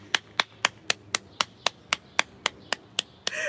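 Hands clap in a steady, even rhythm, about a dozen sharp claps close by, with a brief burst of other noise at the end.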